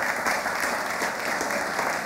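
Steady, dense applause from an audience at the Miss World Fiji 2015 finals, honoring the top five finalists, sustained and even throughout with no voices on top.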